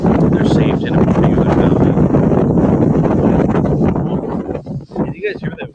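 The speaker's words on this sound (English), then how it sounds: "Can you guys hear that wind?" Strong outdoor wind buffets the microphone at Ala Moana in Hawaii, a loud, constant rushing roar that eases near the end, with a person talking underneath.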